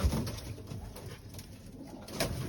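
Soft cooing from a racing pigeon, a few low, muffled coos heard up close against quiet background rustle, with no talking.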